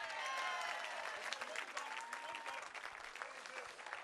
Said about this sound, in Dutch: Nog hier een keer een applaus, toch?